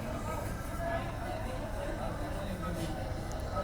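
Busy ambient bed of indistinct chatter and murmuring voices with a low rumbling background, steady and moderately loud.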